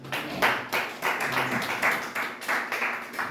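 A church congregation applauding during a Sunday service, rhythmic group clapping in regular bursts, fairly loud and reverberant, several waves of claps with no talking.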